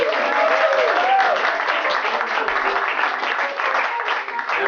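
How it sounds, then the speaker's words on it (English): Warm audience applause for the performers of a comedy festival puppet show, steady full-room clapping throughout with no break, fairly loud and continuous. "please give another big, warm round of applause for our stars tonight"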